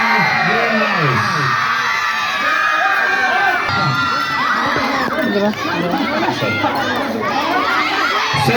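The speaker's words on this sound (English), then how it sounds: "Give a huge applaud for the students of Greenhouse." A crowd of children at an annual school sports ceremony cheers, shouts and whoops loudly and continuously, celebrating the Greenhouse students at a trophy presentation, with chatter mixed through the noise.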